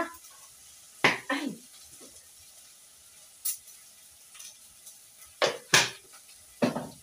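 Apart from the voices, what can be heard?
stirring meat in a pot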